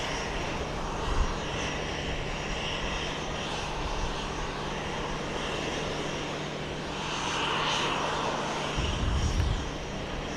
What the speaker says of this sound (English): Another 737-700, this one coming in from Charlotte, the American Airlines hub.